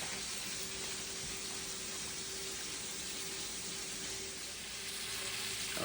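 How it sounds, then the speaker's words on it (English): A large Schäufle pork shoulder roast searing in a hot pan gives a steady, dense frying hiss that holds evenly throughout, close and continuous with no voices. "The idea is only searing."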